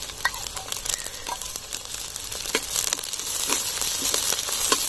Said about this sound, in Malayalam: ചെറുതായിട്ടൊന്ന് വഴറ്റാം.